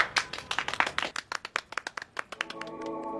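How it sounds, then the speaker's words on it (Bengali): A small audience claps steadily for a singer about to perform, the handclaps crisp and evenly spaced, and a faint tone begins near the end. "তার জন্য জোরে এক করতালি"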